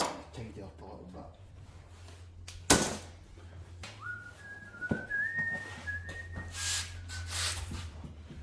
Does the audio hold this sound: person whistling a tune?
yes